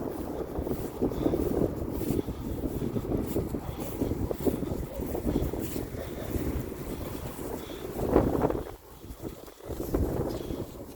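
Wind rushes steadily past in a continuous low roar, briefly easing near the end before picking up again.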